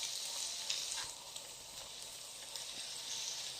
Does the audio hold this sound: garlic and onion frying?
yes